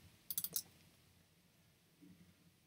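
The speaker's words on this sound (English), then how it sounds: "So you click on the plus sign" A quick burst of four or five sharp mouse clicks, close and distinct, then near silence with a faint low murmur.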